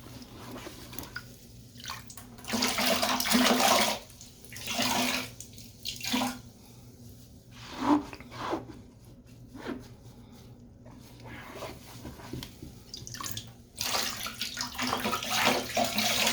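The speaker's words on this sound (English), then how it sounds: "you want to go back with your sponge, and the sponge will soak up the rest" A sponge soaks up the last water in a toilet bowl during a flange replacement, giving wet sloshing and squelching bursts with dripping between them, close by and alone.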